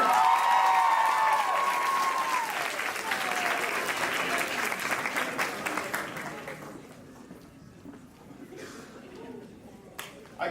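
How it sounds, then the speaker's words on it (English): Applause from a crowd of students fills the room, loud and dense at first, then thinning out to scattered claps and fading to near quiet, with some voices and a brief whistle-like tone near the start. "Everybody give them a round of applause."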